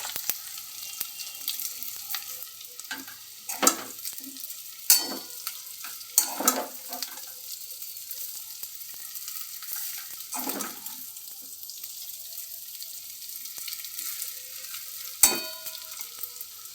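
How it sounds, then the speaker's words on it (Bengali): Boiled chow mein noodles stirred in a hot pan with chicken, a soft steady sizzle broken by intermittent scraping and clattering stirs, close and moderately quiet, with no talking. "এবার এর মধ্যে সেদ্ধ করা চাউমিনগুলো দিয়ে দেব। দিয়ে ভালো করে নাড়ব।"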